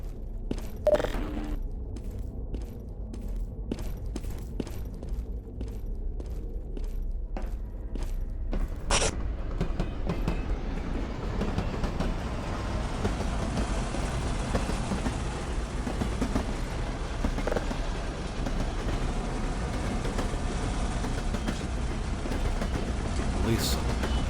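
A train in Half-Life 2 rumbles steadily in the background as a broad low drone that swells and holds, with sharp metallic clanks and footsteps early on and a voice speaking over it.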